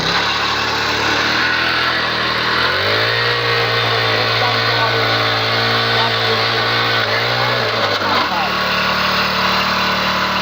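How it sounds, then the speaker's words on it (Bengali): A 120 cc mini power tiller engine runs steadily up close, its mid-pitched drone dipping and rising as the load changes while it breaks up bricks. "আমরা এই মিনি পাওয়ার টিলার দিয়ে দেখেন কত বড় ইটি, এবং ইট ভাঙে ফেলছে"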